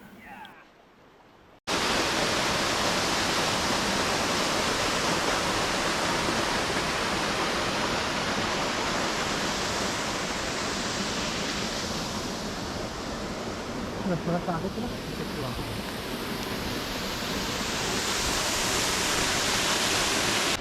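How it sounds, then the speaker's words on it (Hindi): A waterfall in Meghalaya roars as a steady, loud wash of rushing water that starts abruptly after a short quiet moment and then fills the scene continuously, close and unbroken. "तो इस वाटरफॉल के हम डायरेक्ट सामने आए हैं"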